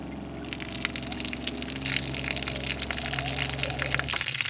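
Maple sap flushing out through tubing lines on a sap heater rig for reverse osmosis, a steady close gushing rush of liquid that runs without break and cuts off abruptly at the end.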